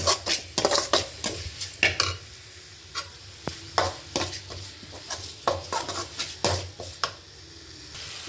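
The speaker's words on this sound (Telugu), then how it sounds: "ఇదంతా బాగా కలిసేంత వరకు కలుపుకోవాలి" Masala vada curry with chili powder being stirred in a pan, a spoon scraping and knocking against the metal in uneven strokes over a soft sizzle, near and clear.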